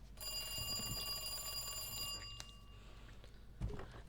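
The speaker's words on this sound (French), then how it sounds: "Ah, ça sonne au téléphone." A telephone rings in the Resident Evil 2 Remake video game, a bright electronic trill sustained for about two seconds, then quieter background game sounds with a soft thump.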